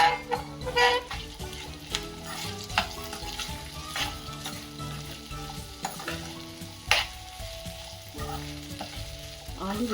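Chopped onions fry in a pan for a potato dish, crackling and sizzling steadily up close, with frequent stirring knocks and scrapes of a utensil against the pan across the whole stretch.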